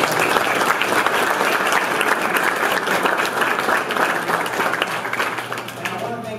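A crowd at a live event gives the mayor a loud, sustained round of applause, thick continuous clapping that fades gently toward the end.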